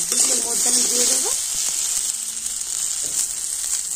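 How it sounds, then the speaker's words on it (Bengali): Grated coconut and vegetables lightly frying in mustard oil in a wok, a continuous soft sizzle with brief stirring scrapes and a short voice near the start. "এখন আমি নারকেল কুড়ি আর সমস্ত সবজি একটু হালকা করে ভাজা করে নেব।"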